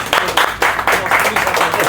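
Audience applause in a cafe at a darts masterclass, loud bursts of clapping in uneven waves, close by.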